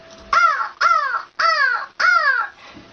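A human voice imitates a crow, giving four loud, harsh caws in a steady rhythm, close and alone.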